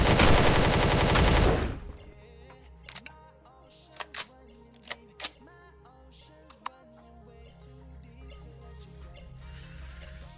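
Turret fire in Empyrion Galactic Survival: a loud burst of rapid automatic shots opens, then scattered sharp single cracks and clicks ring out over a low hum, gradually fading.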